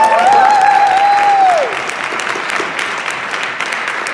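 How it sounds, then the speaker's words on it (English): A church congregation breaks into a full round of applause, dense and steady, with a thin high whistling tone running over it for the first moments before the clapping eases to a lighter patter. "Let's give CJ and Junior an incredible round of applause."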